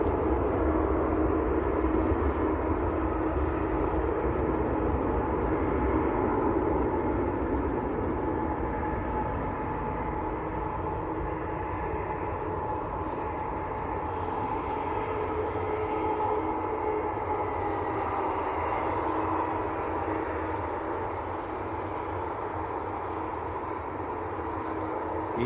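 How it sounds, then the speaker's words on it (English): An EgyptAir airliner departs Manchester Airport for Cairo, its jet engines a broad, distant roar that holds steady and fades slightly over the stretch, with no voices over it. "Egypt Air going back to Cairo."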